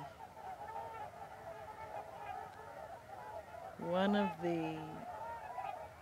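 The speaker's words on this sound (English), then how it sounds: "I just got flanked by a pair of swans on the left and the right." A pair of swans honk close by, a short burst of two or three loud nasal calls standing out against a faint outdoor background by a river.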